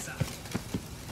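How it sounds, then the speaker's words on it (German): Horse hooves clip-clopping in the video game Witcher 3, three spaced soft thuds at a walking pace, faint under a low ambient game background. "Bist du ein hübsches Pferd?"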